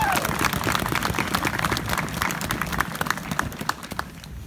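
A round of applause from the crowd at a veterans park dedication in Oswego, Illinois: a dense burst of outdoor clapping that holds steady, then thins out and tapers off at the end, with no talking.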